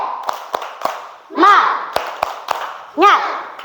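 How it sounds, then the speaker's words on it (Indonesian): A class of schoolchildren claps out a rhythmic cheer in sharp, evenly spaced beats, with shouted group chants bursting in between the claps in a repeating pattern. "1, 2, 3. Tepuk semangat."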